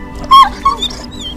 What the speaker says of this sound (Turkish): Kendimi ısırtacak bir köpek arıyordum ısırttım